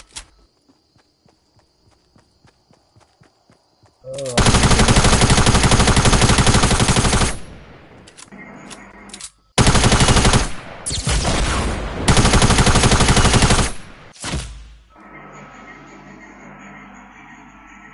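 Rapid bursts of automatic gunfire in Fortnite, loud and sustained over several seconds with short gaps, preceded by faint clicking footsteps; no talk over it.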